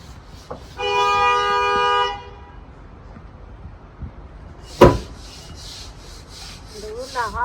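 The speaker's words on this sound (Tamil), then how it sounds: "ஹாரனே அடிக்கக்கூடாது கோவம் வரும் எல்லாருக்கும் ஆனால் சவுண்டு கேட்டால் நமக்கே இப்போ கோவம் வர ஆரம்பிச்சிட்டு" A car horn in traffic gives one steady, fairly loud honk of about a second, followed by quieter street background and a single sharp knock.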